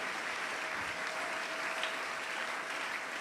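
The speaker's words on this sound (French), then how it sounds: "Gloire à Dieu, nous acclamons le Seigneur." A church congregation claps together in steady, dense applause that holds at an even level throughout, with no voices standing out.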